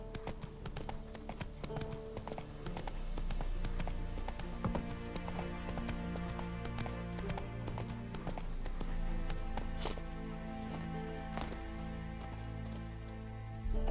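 Horse hooves clip-clopping at a gallop in The Witcher 3, a steady rhythmic pounding layered over game music, moderately loud and continuous throughout.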